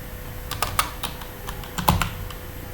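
Someone types code on a computer keyboard, a quiet, close run of irregular key clicks and taps over about three seconds with a faint background hum, no speech.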